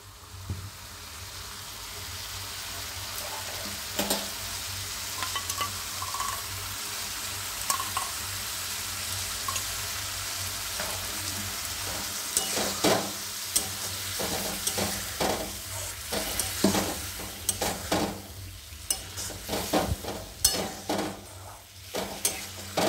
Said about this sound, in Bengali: এটা এইবার আমি কাজু বাদাম আর দইয়ের পেস্টটা দিয়ে দিচ্ছি।